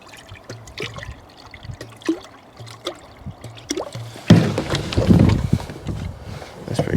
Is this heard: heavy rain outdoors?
no